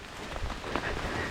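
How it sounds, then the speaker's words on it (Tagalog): Rain falling at a woodland campsite, a soft continuous patter of drops on surfaces, close and fairly quiet, steady throughout with no talk. "Oh, it's raining now."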